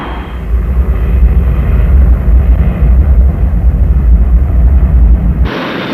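Boeing B-47 swept-wing six-engine jet bomber in flight, a steady, loud, broadband jet roar with strong low rumble that holds for about five seconds before cutting off abruptly, with no talk.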